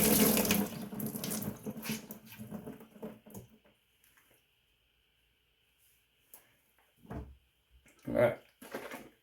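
Tap water runs into a bathroom sink after a head shave, rushing loudly at first, then cutting off into near silence before a few brief splashes and clunks follow.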